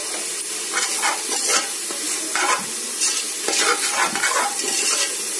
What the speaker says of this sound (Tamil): நல்லா கொஞ்சம் பச்சை வாசனம் போகிற வரைக்கும் நம்ம இதை வதக்கணும்.